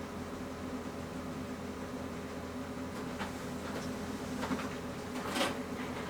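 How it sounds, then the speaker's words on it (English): A toner laser printer runs with a steady mechanical hum and whir, and faint clicks and brief higher rattles toward the end as it prints, with no talking. "Now you might be able to hear the printer."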